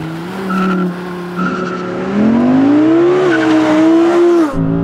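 An Audi R8 GT launches hard in a drag race. Its engine climbs steadily in pitch through the gears, with a brief dip at each shift and a sharp tire squeal. The car stays loud and close throughout.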